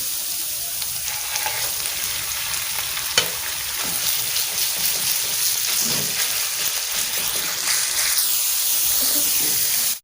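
Chicken fries in hot ghee with ginger and garlic in a home kitchen pan, a loud sustained sizzle and spatter with stirring scrapes throughout, steady to the end.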